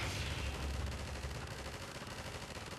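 Dense, rapid gunfire in the video game Half-Life 2 Episode 2, a continuous rattling burst at moderate, even loudness with no talk.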